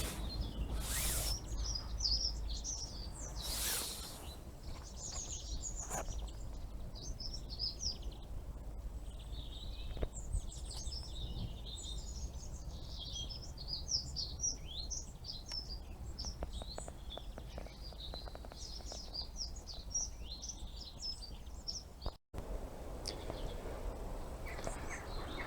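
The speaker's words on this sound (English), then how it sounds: "the robins are about today" Robins sing in a winter garden with bright, trilling phrases repeated throughout at moderate distance, alongside a few close knocks and rustles.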